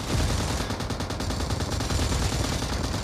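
Rapid bursts of automatic gunfire in the mobile battle royale game PUBG Mobile, a dense, loud, continuous rattle of shots throughout with no talking.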